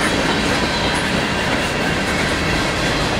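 Norfolk Southern manifest freight train, NS 153 led by Dash 9 locomotives, rolling past Charlotte Junction, a loud continuous rumble with wheel clatter close by and no voices.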